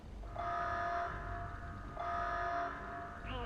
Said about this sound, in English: The fuck is that alarm?